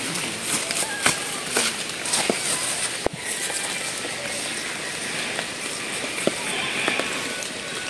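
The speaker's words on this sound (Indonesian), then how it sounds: "Lagi gerimisnya ini, teman-teman." Light drizzle patters on leaves and surfaces in a rainy-season forest orchard, a soft continuous hiss with scattered sharper drop ticks and a brief knock partway through.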